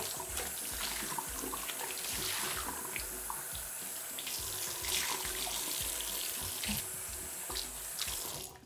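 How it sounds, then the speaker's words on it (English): Running tap water splashing onto a bathroom counter, a steady close rinse with small shifts as the stream is moved around. "Now I'm going to rinse the counter and this part, the faucet."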